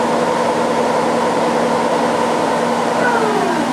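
Hwacheon Hi Tech 700 CNC lathe with a roughly 300 kg chuck, its spindle winding down under active braking in second gear: a loud, steady mechanical hum and whine with a faint tone sliding downward near the end.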